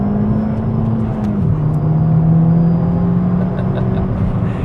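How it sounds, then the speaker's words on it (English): A Ford Fiesta ST MP215 pocket rocket driving along, its engine droning steadily from inside the cabin with a faint high intake whistle, the tone dropping slightly as revs change. "Just hear that intake whistling and moaning all the time."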